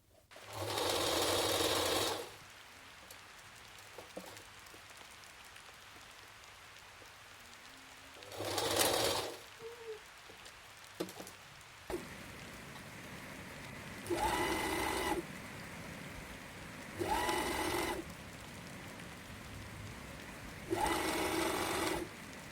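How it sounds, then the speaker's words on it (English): An overlocker stitches a neckband onto a T-shirt neckline seam in several loud bursts of rapid whirring, separated by quiet pauses with small handling clicks. "Overlock the neckband and the neckline seam."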